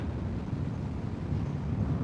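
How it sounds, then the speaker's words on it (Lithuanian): Headwind buffets a microphone on a motorcycle riding through Serbia on a Balkan trip, a steady low rumbling roar of wind noise that never lets up, close and fairly loud. "Šiandien kažkoks priešinis vėjas ir vėsus toks, nors 23 laipsniai lauke."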